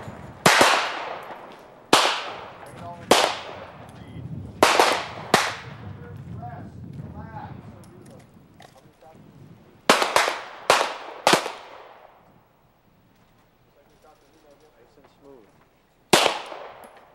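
Handgun shots ring out at an outdoor shooting range, loud sharp cracks fired singly and in quick pairs with pauses between them, while someone talks quietly in between.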